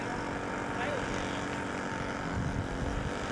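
A scale model airplane flying at a model airshow in the UK, a steady distant propeller-engine drone mixed with outdoor crowd ambience and a voice speaking over it.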